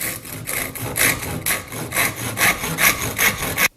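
Hand saw cutting the top off an axe handle, a steady run of about a dozen rhythmic rasping strokes, close and fairly loud, with no talking, ending abruptly.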